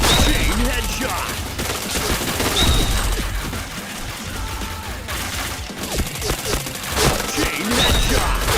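Gunfire from a shooting video game during a run of chain headshots: dense, rapid bursts of shots in quick succession, loud and close, with brief ping-like tones mixed in and continuing across the whole stretch.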